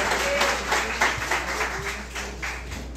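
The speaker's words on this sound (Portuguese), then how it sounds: "aplauda ao Senhor com o seu melhor" A church congregation applauds during a Nova Vida service, steady clapping filling the space throughout, with a low hum beneath and a few louder claps standing out.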